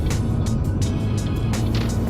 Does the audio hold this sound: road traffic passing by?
yes